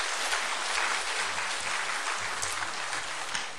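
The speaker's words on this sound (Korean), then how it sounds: "우리 박수로 환영해 드립시다." Applause from a church congregation welcoming newcomers fills the room, a dense, even spread of many hands clapping with no voices on top.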